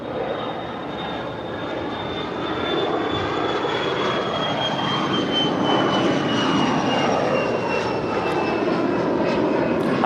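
A small private jet departing LAX for Philadelphia builds from a rumble into a steady, loud engine roar with a sustained high turbine whine that slowly drops in pitch.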